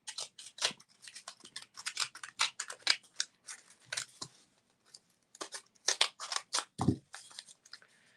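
Scissors snip through cardboard in a quick series of crisp, close cuts, with short pauses between bursts and one duller thud near the end.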